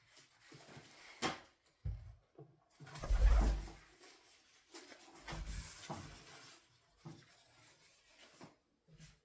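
Pigeons or doves cooing in a home garden, with several short soft coos and a louder burst in the middle, heard close and alone among brief knocks and rustles with no talk.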